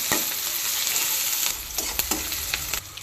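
Chopped onion, green chili and garlic fry in a hot pan with a loud close sizzle, broken by several sharp spatula scrapes and stirring taps near the end, no talking.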